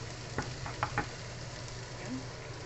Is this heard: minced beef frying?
yes